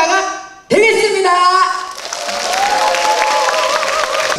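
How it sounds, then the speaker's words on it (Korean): An audience at a 2018 business startup information session claps after a speech, a sustained round of applause that follows a short musical sting and continues steadily to the end. "큰 박수 부탁드리겠습니다"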